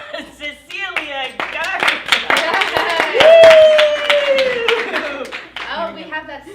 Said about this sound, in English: Everyone welcome, round of applause, Cecilia